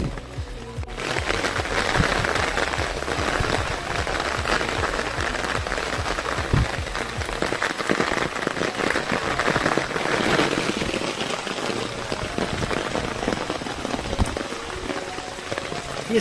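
Steady rain falls along a route in Himachal Pradesh, a dense, even hiss of drops hitting surfaces that continues throughout with no break and no talking.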